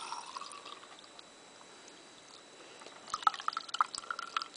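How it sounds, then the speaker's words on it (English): Water strained into a cup while cleaning gizzard stones, a faint trickle early on, then a string of quick close drips and splashes in the last second and a half. "So I'll just strain this into the cup."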